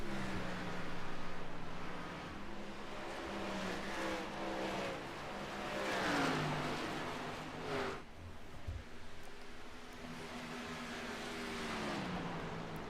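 Race cars circling an oval track during a live stock car race, several engines droning and shifting pitch as they pass at a distance, a steady layered roar with no talk.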